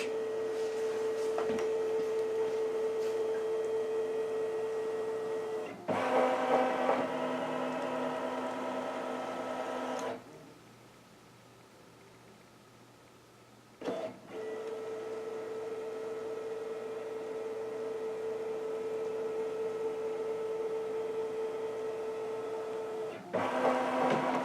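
A Brother Luminaire embroidery machine stitching out a quilt sashing pattern: a steady mechanical whir with tonal hum runs alone, cuts to near-silence for a few seconds, then resumes and carries on evenly.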